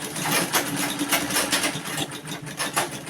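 A sewing machine runs steadily as it stitches a seam on a fabric crop top with bishop sleeves, its motor humming with a fast, even whir and soft mechanical clatter, close and continuous with no talking.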